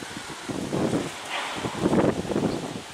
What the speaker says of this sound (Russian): Сильный очень ветер